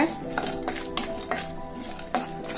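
Stirring in a pan while lightly roasting nuts for modhagam kozhukattai: several distinct clinks and scrapes of a spoon against metal over a soft sizzle, close and moderately loud, with no talk.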